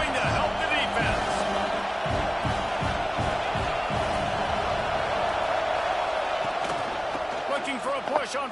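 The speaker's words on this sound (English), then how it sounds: "this crowd is coming to help the defense" A college football stadium crowd at a Bama vs FSU game roars steadily on a fourth-down defensive stand, a dense, sustained wall of cheering with a commentator talking over it.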